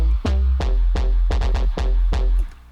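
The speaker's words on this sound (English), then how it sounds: "wow, that compressor is doing a lot of work." A synth bass run through a heavy compressor sounds squashed and dense, a quick riff of about eight punchy low notes with an even, sustained level before it cuts off, loud with no voices.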